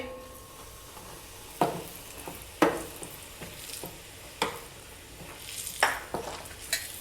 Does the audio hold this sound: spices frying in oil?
yes